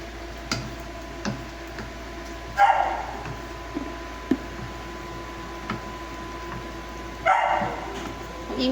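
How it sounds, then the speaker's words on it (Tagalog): A pet dog barks a few times indoors in a kitchen, sharp separate yips and barks spaced several seconds apart over a constant low background hum and occasional light ticks. "Ang ingay ng aming aso."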